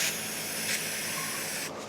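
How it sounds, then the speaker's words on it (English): Red gloss spray paint hisses steadily from an aerosol can into a gloved hand, a close, continuous spray lasting under two seconds with a brief surge partway through and no talking. "you're just gonna spray it directly in your hand, get a little puddle"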